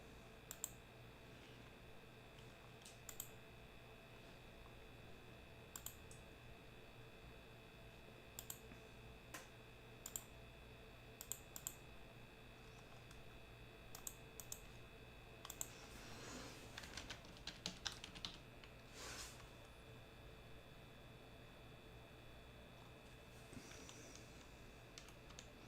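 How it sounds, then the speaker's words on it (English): Typing on a computer keyboard: sparse, faint clicks at first, then a busier flurry of keystrokes in the middle, heard alone against a quiet room hum. "is my keyboard finally dying?"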